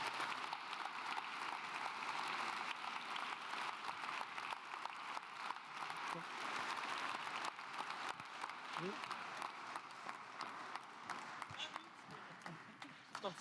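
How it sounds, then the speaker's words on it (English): A large conference audience at a sustainable urban development summit gives a long, even round of applause, dense and continuous for over ten seconds before tapering slightly near the end. "we will reach our initiators with the last big round of applause"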